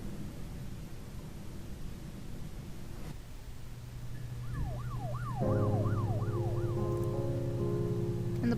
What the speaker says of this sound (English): And the police sirens,